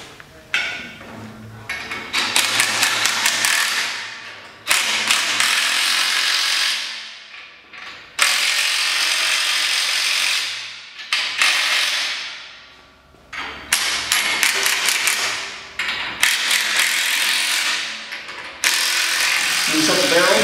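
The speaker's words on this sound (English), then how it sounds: "And you secure these or tighten them with 1 1/8" either socket or wrench." A ratchet wrench with a 1 1/8 inch socket tightens bolts on a mechanical transplanter, giving rapid clicking bursts in repeated strokes separated by short pauses, loud and close.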